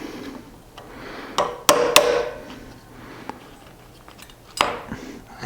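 Hardened steel tabs on knife lock insert parts are snapped off by hand, a few sharp close cracks and metallic clicks spaced irregularly over quiet handling noise, no talk.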